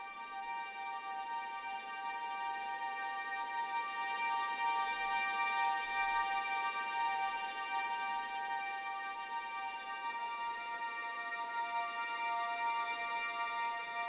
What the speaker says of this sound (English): So then we've got long harmonics.